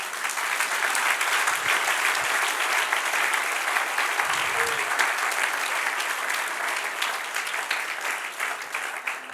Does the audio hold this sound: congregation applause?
yes